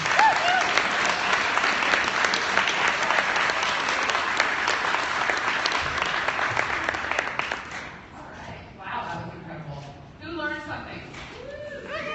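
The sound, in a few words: audience applause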